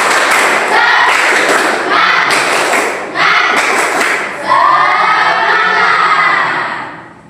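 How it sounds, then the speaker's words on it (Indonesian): A school class joins in a rhythmic spirit clap, loud bursts of group clapping and thumping in short patterned bursts mixed with children's shouts and cheers, ending in a sustained shouted cheer. "Tepuk semangat"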